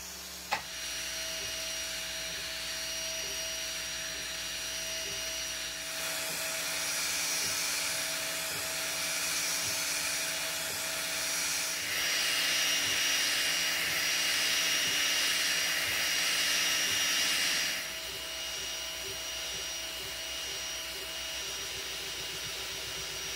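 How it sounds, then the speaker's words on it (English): Two Trees TTS-20 Pro laser engraver working on coated aluminum sheet, a continuous whirring fan-like drone with a steady electronic whine that shifts in level across the pass, close and alone. "This machine can also engrave certain metals like this coated aluminum sheet."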